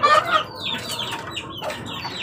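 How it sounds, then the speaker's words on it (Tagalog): A thirsty chick being given Yakult mixed with vinegar peeps in quick, high, thin chirps, several in a row, close and fairly loud with no talk over it. "Ayan guys, uhaw na yung ating sisiw."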